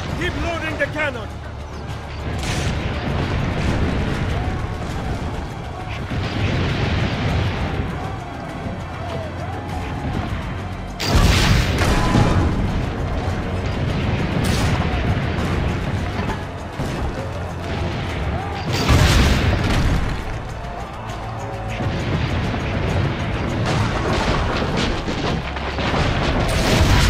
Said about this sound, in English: Keep loading the cannon!